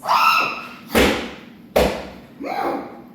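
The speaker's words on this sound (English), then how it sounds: "Enters the stall. We hear thumps." Three heavy thumps come from inside a toilet stall, spaced unevenly and loud, each a dull impact with a short decay, mixed with some scuffing noise and no speech.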